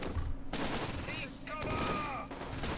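Gunfire in the WWII tactics game Close Combat: Gateway to Caen, with sustained bursts of shots and fusillades in a multiplayer battle in bocage country, fairly faint and steady under game noise.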